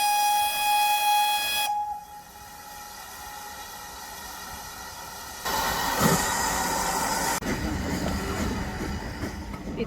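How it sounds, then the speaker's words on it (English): An old steam train at Kingswear on the Dart River sounds a sustained whistle tone, then chuffs and rumbles as its carriages roll past, loud and fairly close. "we happened to dock right next to the biggest attraction of the area,"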